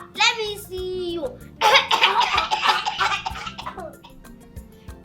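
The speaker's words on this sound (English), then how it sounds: "Are you coughing?" A child coughs once or twice near the start, then laughs and chatters in a sustained giggling burst before trailing off into quiet.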